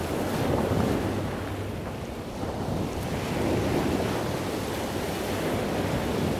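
Ocean surf rolls and breaks at the shore in Key West at sunset, with steady wind buffeting the microphone; a continuous, loud wash of waves under gusty rumble, no voices.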